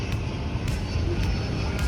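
Zipline rider whooshing past outdoors in the Ardennes, a steady broadband rush like a passing airplane, continuous and fairly loud for about two seconds with faint wind noise.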